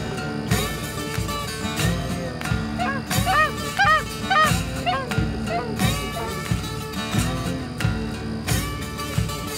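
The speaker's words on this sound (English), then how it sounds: "We're waiting on geese we told were gonna come." A flock of geese honks loudly and repeatedly as they fly in to land, the overlapping calls dense and continuous over a rumbling outdoor background.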